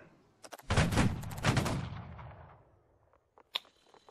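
Musket volley fire from a Holdfast: Nations at War line battle: one massed crackling volley of many muskets that rolls and fades over about two seconds, followed by a few scattered distant shots.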